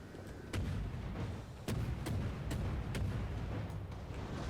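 Warship main guns in a naval video game fire a narrow spread, heard as several sharp, booming artillery reports at irregular intervals over a steady rumbling background, with no talk.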